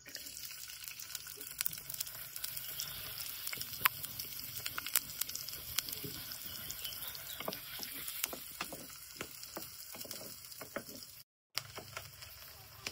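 Chopped onion dropped into a hot oil tempering for Malvani fish curry in a village kitchen, giving a steady crackling sizzle with scattered pops that continues evenly, briefly cut to silence near the end.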